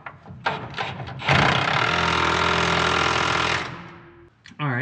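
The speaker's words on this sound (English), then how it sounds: "get an 18 millimeter socket and tighten up from below." Power tool running steadily for about two seconds, tightening a nut with an 18 mm socket from below during a 4L80 transmission support bar install; loud continuous whirring with clanks before and after.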